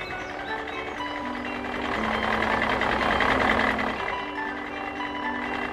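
A cartoon tractor engine runs steadily, a buzzing, knocking motor hum with a tonal drone that swells in the middle and continues without speech.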